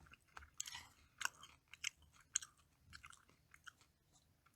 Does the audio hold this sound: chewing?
yes